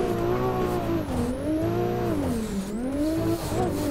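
BMW E36 in a drift racing video game, its engine droning and rising and falling in pitch as it revs through a slide, with tire squeal layered over it, loud and continuous without pause.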